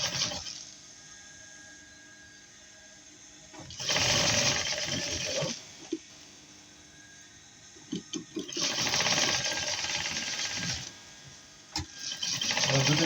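Electric sewing machine stitching a small child's round dress, running in two long loud bursts with shorter starts and stops between, close up with no talk.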